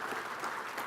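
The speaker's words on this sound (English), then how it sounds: "Let's first of all give these folks a great round of applause" Audience applause for a soil health panel at a farming convention, a brief, faint, even wash of many hands clapping in a hall.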